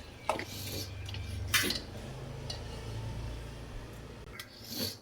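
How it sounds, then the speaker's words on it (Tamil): A metal plate clinks and scrapes as it is set over a pot of tomato bajji, a few sharp close knocks against a low steady background hum. "நான் இப்போ ஒரு பிளேட் வச்சு மூடி வைக்க போகிறேன்"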